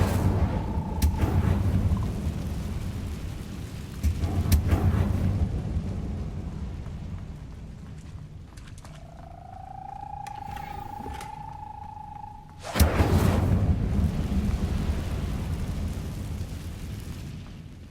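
A fire spell is cast in a video game, sending out roaring, rumbling bursts of flame, loud and broadband at the start, midway and near the end, with a rising whooshing tone in between.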